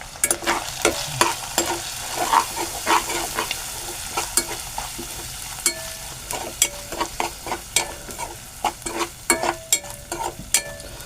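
A spoon stirs and scrapes through a tomato vada mixture in a frying pan, with repeated close clinks and scrapes over a steady low sizzle.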